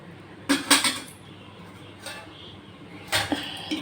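A lid set down onto a cooking pot while making dahibara aloo dum, heard as a few sharp metallic clatters near the start and a louder clink toward the end, close and fairly clear over a quiet kitchen background.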